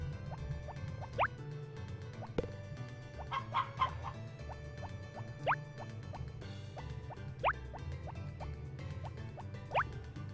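Game chickens in Harvest Moon Back to Nature cluck in short chirpy blips scattered every second or two over soft looping music, with a few water-like plops.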